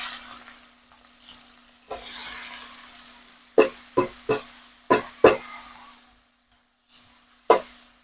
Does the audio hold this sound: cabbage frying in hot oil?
yes